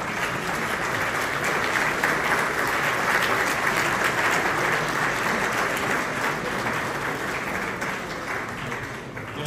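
A congress audience in Amman, Jordan applauds team members standing up, a dense, steady wash of clapping from many hands that stays loud and even for the whole stretch with no talk over it.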